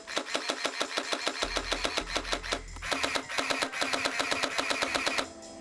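A gel-ball mini sentry gun fires in semi-auto, giving a rapid, steady string of sharp mechanical clicks and pops with a low motor hum beneath, close by and with no talking.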